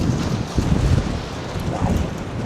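Strong nor'easter wind buffeting the microphone at the coast, a steady loud roar with gusty swells and no voices.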